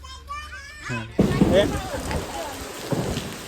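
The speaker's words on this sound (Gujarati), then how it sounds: "મિત્રો વરસાદ ચાલુ થઈ ગયો" First monsoon rain pours down in Botad village, a dense hiss that begins abruptly and stays steady and close. People, including children, talk over it.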